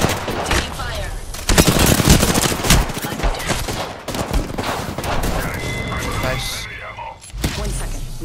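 Rapid automatic gunfire in the Apex Legends video game, dense bursts of shots close and loud throughout, with excited players shouting over the shooting.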